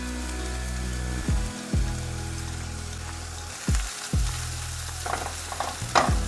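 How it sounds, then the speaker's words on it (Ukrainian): Onion and peppers stewing in a pan for shakshuka, a steady close sizzle and crackle broken by several soft clacks of stirring, with no talk. "додаємо перець та продовжуємо тушкувати до моменту, поки все стане м'яким"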